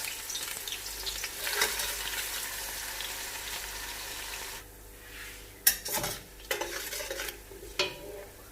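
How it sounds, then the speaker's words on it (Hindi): Sliced onions sizzle in hot oil for shaljam gosht, a steady broadband frying hiss through the first half that quiets and then gives way to a few sharp stirring clinks and scrapes against the pot. "प्याज डालेंगे, स्लाइस में काट ली मैंने ये प्याज।"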